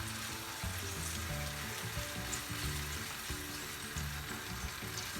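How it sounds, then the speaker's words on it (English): Masala for a spinach dal dish frying in ghee over a high flame, a soft, steady sizzle at low level with a faint background hum, heard alone without speech. "Just make the flame high so this masala is cooked properly and it releases the oil"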